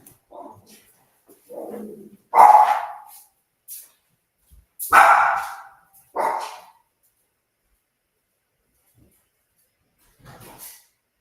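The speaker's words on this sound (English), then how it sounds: "I have a little guard dog" A small guard dog barks late at night, giving about five short, sharp yips in two uneven bursts from nearby, followed by quiet and one faint bark at the end.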